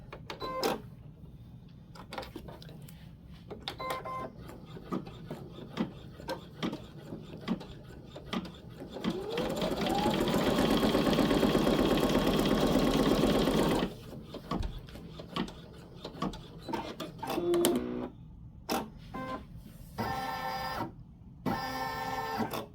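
A Baby Lock Flare embroidery machine stitches in quick mechanical bursts, then runs steadily for several seconds with a rising whir before returning to short, clattering stitch sequences, close and moderately loud.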